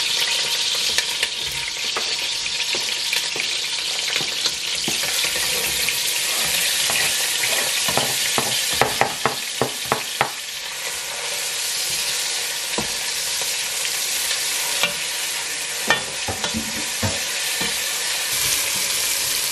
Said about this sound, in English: So I just put some oil. So now I'm gonna put the onion.